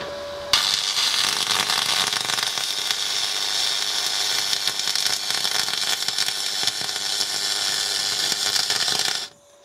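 An aluminium alloy plate being MIG welded with an R-Tech MIG180 spool gun gives off a loud, steady crackling hiss. It starts abruptly, runs unbroken for about nine seconds, then cuts off.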